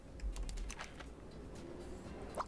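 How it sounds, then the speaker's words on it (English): One-handed typing on a computer keyboard during a game session: a loose run of light, uneven key clicks at close range, steady throughout with no voices. "That one-handed typing."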